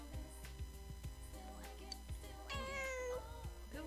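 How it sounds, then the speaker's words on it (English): A cat meows in the video game Persona 4 Golden, a drawn-out mewing call rising over steady game music and background ambience, with no one talking. "Oh yeah, cat. There's a cat."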